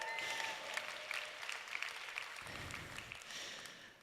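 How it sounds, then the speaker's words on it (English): Audience applause at a talk, steady clapping from a seated crowd, fairly faint and distant, continuing for several seconds without speech. "Give them another round of applause, please."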